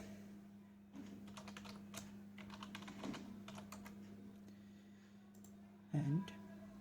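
Soft, quick keystrokes on a computer keyboard while a comment is written, faint and irregular over a low electrical hum, with a brief voice near the end.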